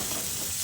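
A spoonful of gram flour goes into a spice paste frying in oil for a Bengali chichinga (snake gourd) dish, giving a brief, steady sizzle with a soft stir, close up and without talk.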